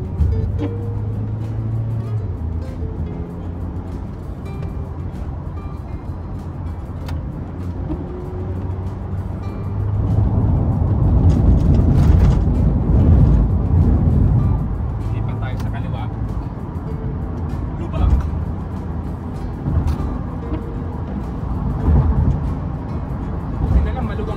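A car merges from an exit straight onto a US expressway on an 8-minute drive to work, with a steady engine and road rumble that swells louder midway, a voice talking over it.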